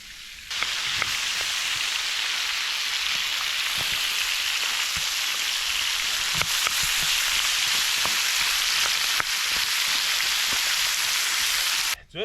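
Thick-cut vegetables sizzle and crackle in a pan alongside steak, a steady dense hiss of frying with scattered small pops, close and continuous from start to finish.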